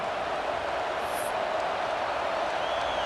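A steady wash of stadium crowd noise from the EA Sports College Football 26 video game, a sustained roar with faint cheering and no sharp breaks, filling the whole stretch.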